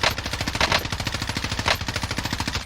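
Automatic gunfire in the Warzone video game rattles in rapid sustained bursts, loud and close, with a few brief pauses between strings of shots.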